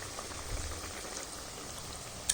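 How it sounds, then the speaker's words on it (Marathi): Flattened rice poha snack shallow-frying in a pan until reddish and crisp, a steady soft bubbling sizzle throughout with a brief louder crackle near the end, no voices. "आता खालची साईड चांगली अशी लालसर होईपर्यंत आपण तळून घेणार आहोत"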